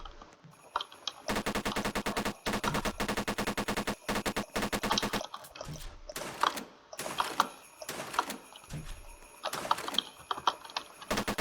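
Gunfire in the Roblox game Base Raiders, with a shotgun in use: loud, dense volleys of rapid shots packed into long bursts, broken by short pauses and a few scattered single blasts.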